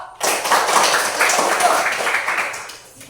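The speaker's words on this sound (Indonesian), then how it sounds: "berikan aplaus untuk grup berapa?" Classroom applause for a student group in an elementary school science lesson, a dense burst of clapping from many hands starting abruptly and holding steady for about three seconds before tapering, with no talk over it.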